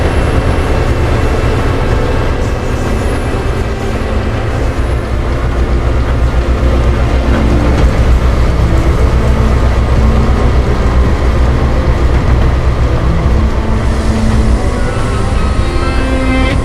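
CSX freight locomotive number 6129, on local assignment, arriving with an AC4400CW trailing: a loud, steady diesel rumble and rolling rail noise continue throughout, with no talking.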